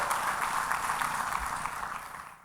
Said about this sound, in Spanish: Si le va a dar un aplauso, déle un aplauso de a de veras, no de a 500